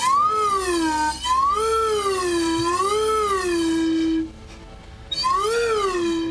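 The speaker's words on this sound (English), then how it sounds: "I get as flat as I can with a slide whistle in my mouth." A slide whistle played deliberately flat as a joke, sliding in slow wavering swoops up and down, loud and close, with a brief pause before a final rising swoop.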